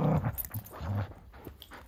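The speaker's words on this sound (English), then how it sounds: "you're one crazy dog" A dog tugging on a toy in play, making close, loud growls and whimpers in bursts amid scuffling and chewing sounds, with no talk over it.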